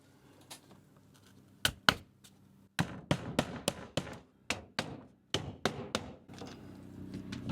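Nails hammered into vinyl shake siding on a gable end: a series of close, sharp hammer blows, a couple of isolated strikes, then quick runs of knocks with short pauses between nails.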